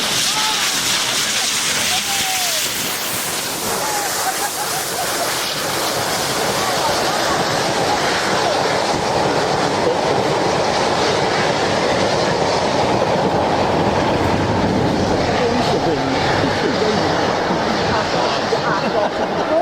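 A diesel locomotive train passes close by on a mainline, a loud, sustained rolling roar with rhythmic clickety-clack from the wheels that continues for the whole stretch.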